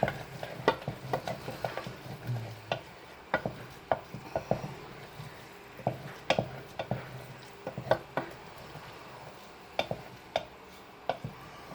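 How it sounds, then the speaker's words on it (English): Scrambled eggs with green onion being folded in a frying pan, giving a run of irregular scraping and tapping strokes of a utensil against the pan over a low sizzle, with no voices. "we're going to fold the green onion into our eggs"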